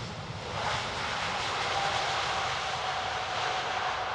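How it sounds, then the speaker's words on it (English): An Airbus A350 XWB jet powered by two Rolls-Royce Trent turbofans passes at the Farnborough International Airshow, a loud, steady engine roar that swells in the first half second and then holds strong throughout. "Turning our attention to the 350 as he swoops down towards us, powered by two Rolls-Royce Trent turbofans"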